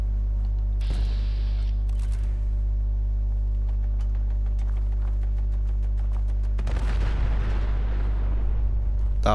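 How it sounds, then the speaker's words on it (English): A heavy explosion booms out in Fallout 4, a deep rumbling blast followed by a second, louder burst over a constant low game hum. "That was an explosion."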